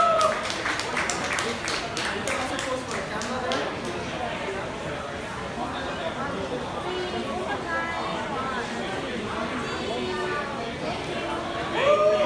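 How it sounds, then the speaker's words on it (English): A few seconds of scattered clapping from the audience at a panel on VC versus KOL investment strategy quickly give way to crowd chatter and voices talking nearby. "And have a round of applause."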